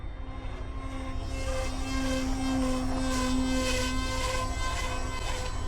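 A 3D printed flying wing model aircraft in flight, its motor and propeller giving a steady, loud buzzing drone with a sustained tonal whine that holds evenly throughout, no talking.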